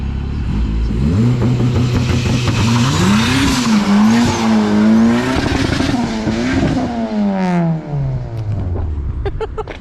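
Turbocharged Honda K24 VTEC engine in a tuned car, revving hard and pulling away with rising and falling engine pitch through gear changes, loud and close, with some tire noise.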